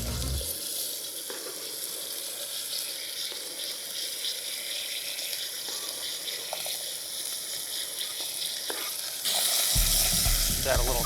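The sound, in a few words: red and green peppers, celery, andouille sausage sizzling in pan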